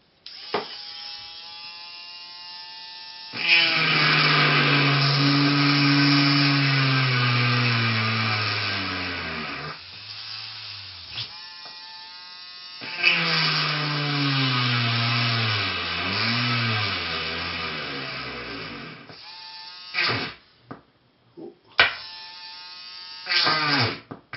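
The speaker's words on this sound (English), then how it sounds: "So, grab our rotary tool." Handheld rotary tool drilling into a bicycle light housing, a high buzzing whine that rises and falls in pitch as it loads and unloads, in two long runs separated by short stops and brief bursts.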